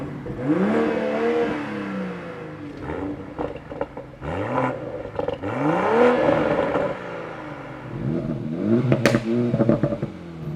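A Toyota Supra's engine and exhaust rise and fall through repeated revving sweeps while driving, with crackling burbles between pulls, loud and close throughout.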